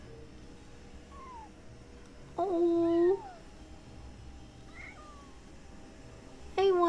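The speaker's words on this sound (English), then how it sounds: "Oh, that was the cutest meow." A cartoonish cat meows in the video game Genshin Impact, giving two short, bright, high mews a few seconds apart over quiet background music, with a brief spoken exclamation.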